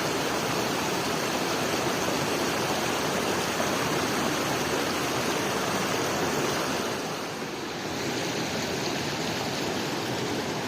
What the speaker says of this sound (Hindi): ये साफ सुथरा पानी बह रहा आप देख